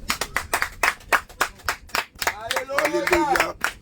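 Passengers in an RER train carriage between Melun and Paris clap during street evangelism, giving sharp, close, rhythmic claps mixed with voices calling out and cheering.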